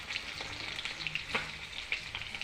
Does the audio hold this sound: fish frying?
yes